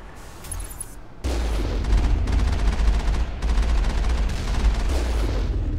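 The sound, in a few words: gunfire from enemies in the video game Mass Effect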